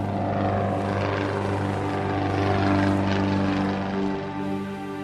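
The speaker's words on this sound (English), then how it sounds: "And I hear an airplane." A small red propeller airplane flying up over a glacier in Alaska, its droning engine loud and near with a steady buzzing hum that swells slightly mid-pass and then eases off.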